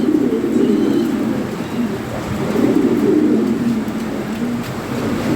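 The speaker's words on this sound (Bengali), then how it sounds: "ব্রিডিং করেছে কবুতর, দেখার মতো একটা পেয়ার" Red Lahori breeding pigeons coo loudly and continuously nearby in a low, rumbling, overlapping drone that rises and falls without pause, with no talking.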